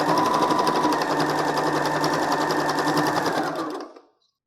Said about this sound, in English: As you're sewing this, you can just check on the back side to make sure everything's lining up.